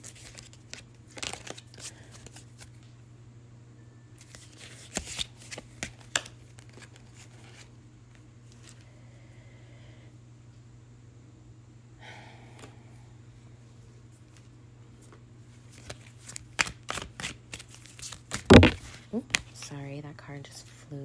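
A tarot deck shuffled and handled by hand, with soft crinkling card flicks in short clusters at the start and near the end, and one sharp slap as a card flies out, under quiet whispered talk.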